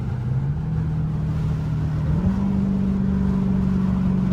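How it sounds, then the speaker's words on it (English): A 900-horsepower Dodge Hellcat's supercharger whines loudly on a downshift from fourth to third gear, a steady high-pitched whine over the engine drone that jumps up in pitch partway through, heard from inside the car. "I can hear my whine on the downshift now from like 4th to 3rd"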